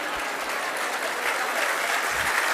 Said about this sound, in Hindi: अब ये सबसे ज्यादा तालियां बज गई